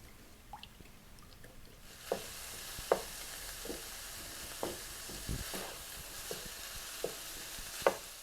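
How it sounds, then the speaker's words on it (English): Milk and beef broth are whisked in a bowl, giving a soft liquid swish with a series of light, irregular taps against the bowl's sides. "And then my milk and my beef broth. And then I'm just going to give it a whisk."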